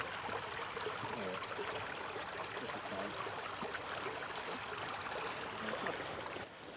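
A shallow river on the Isle of Skye flows over stones with a steady, broad rushing and trickling wash that stays constant and fairly close, with no voices over it.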